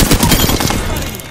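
Close, loud gunfire in the Apex Legends video game: a rapid burst of shots cracks in quick succession over a brief moment.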